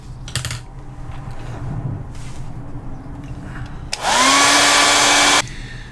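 A hair dryer drying an ink wash painting switches on abruptly with a loud rising whine and steady blowing roar for about a second and a half, then cuts off; a few faint taps and handling noises come before it.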